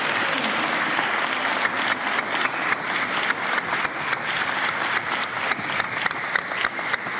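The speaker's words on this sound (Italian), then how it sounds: "facciamo un altro applauso ai bambini" Sustained applause from an audience for children after a Christmas blessing event, steady dense clapping at moderate distance lasting several seconds, with faint crowd murmur underneath.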